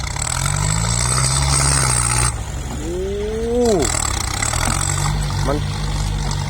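A Yanmar EF494T tractor pushes heavy clay soil, its diesel engine droning loud and steady, with a brief dip in load and a voice rising over it midway.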